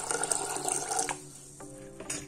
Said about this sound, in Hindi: इसमें हम पानी डालेंगे कि हमारा मटर अच्छी तरीके से गल जाए